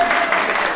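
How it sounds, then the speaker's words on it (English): Audience at an AI meetup general meeting claps briefly, a short burst of applause that is fairly loud and close throughout. "All right, applaud for me."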